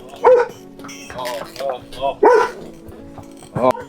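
Two foreign-breed dogs give several short barks and yips in bursts close by at horses in Ghandruk village, Nepal, mixed with people talking nearby.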